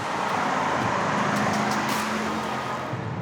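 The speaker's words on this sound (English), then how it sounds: "Curvy mountain roads, naturally aspirated V8, manual transmission" A naturally aspirated V8 car with a manual transmission drives a curvy mountain road, giving a steady, loud engine drone and road noise from inside the cabin with no speech.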